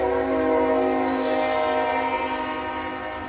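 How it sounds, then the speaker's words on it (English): A train passing by at close range, a steady, loud broadband rumble and roar with a sustained tonal hum that slowly fades toward the end, no talking. "we're going to get to watch a train"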